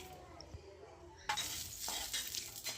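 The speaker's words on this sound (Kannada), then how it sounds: "ಈಗ ಸ್ಟವ್ ಮೇಲೆ ಆನ್ ಮಾಡಿಬಿಟ್ಟು ಕಡೆಯಲ್ಲಿ ಶೇಂಗಾನ ಹುರಿಬೇಕು." Peanuts roasting in a pan on a stove, a quiet low bubble that turns into a rattling sizzle with clinks as the nuts are stirred, over about three seconds.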